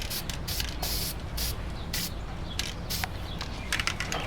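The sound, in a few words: spraying approved finish on cut deck joist ends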